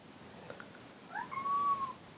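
A house cat indoors gives one drawn-out meow, faint and a little distant, over a quiet room hiss.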